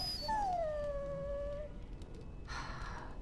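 A video game dog gives a drawn-out, falling whimpering howl close by, then goes quiet before a brief rustle of movement near the end.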